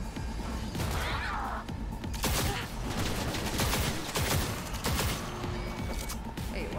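Video game gunfire rattles in dense, continuous bursts of sharp shots and crashing impacts, loud and close throughout.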